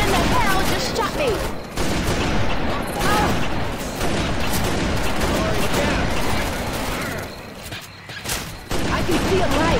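Rapid bursts of gunfire from the zombie shooter Left 4 Dead 2 crackle and rattle almost continuously, with brief lulls and heavy impacts, loud and close amid game effects.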